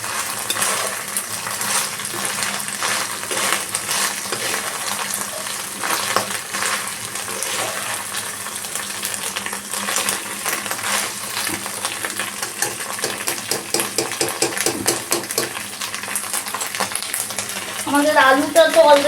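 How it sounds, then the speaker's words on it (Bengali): Okra frying in a pan for curry, a steady close sizzle with scattered metallic scrapes and clinks of utensils, louder clattering toward the end. "এবার আমি ভিন্ডিগুলোকে দিয়ে দিচ্ছি।"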